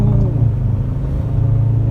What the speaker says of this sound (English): A diesel car, a 3-liter diesel car revving all the way till 4000 RPM